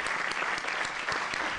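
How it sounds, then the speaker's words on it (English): An audience at a World Science Fiction Society business meeting gives brief, steady applause that fills the room at a moderate level. "And I'd like to start a round of applause as thank you for all the help and support you gave me."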